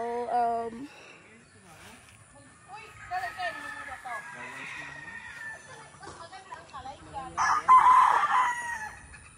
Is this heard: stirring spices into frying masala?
no